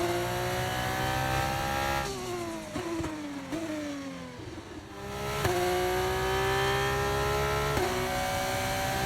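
An F2 race car in the video game F1 25 accelerates hard, its loud engine whine climbing in pitch through several upshifts. Each gear change brings a brief dip, then the engine rises and holds at high revs.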